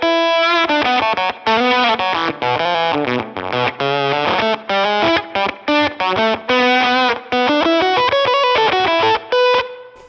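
Electric guitar through Fuzz Factory-style fuzz settings on a Line 6 Helix plays a choppy riff of short, heavily fuzzed notes with gated stops, loud and close.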